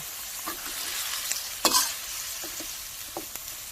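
Chicken offal stir-fried with holy basil sizzles steadily in a hot pan, with a few sharp spatula scrapes and clacks standing out, one louder knock midway.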